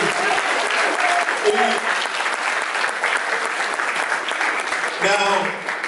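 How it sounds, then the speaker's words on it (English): Audience applause at a live stage event, a dense wall of clapping from a sizable crowd with scattered voices and brief vocal bursts mixed in, staying loud throughout. "Give him a big round of applause."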